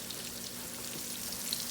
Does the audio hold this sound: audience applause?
no